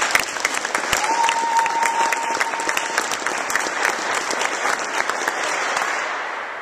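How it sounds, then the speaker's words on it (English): Audience applauding a mayor at a civic announcement about expanding the Nice Ride bike-share program, steady dense clapping filling the room throughout, with no voices over it. "So how about a round of applause for the mayor?"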